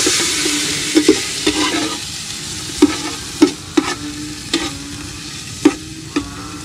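Chopped ginger sizzling while being sautéed in a pan for oyster soup, a continuous frying hiss punctuated by repeated clinks and scrapes of a utensil against the pan, roughly a dozen knocks at irregular intervals.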